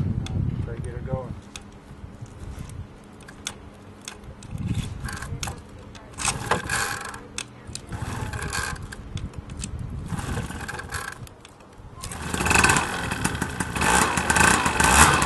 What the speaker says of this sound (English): here's the full starter cable, and I'm going to give it some pulls and try to get her going.